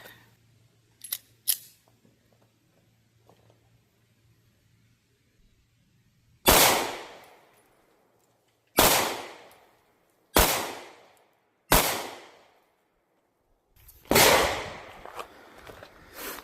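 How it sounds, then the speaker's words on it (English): Five loud, close gunshots fired at 7 yards from a gun fitted with a Cyelee STIG-RS red dot, each a sharp crack with a short ringing decay, spaced a second or more apart after a quiet lead-in. "So here we go, 7 yards, first shot."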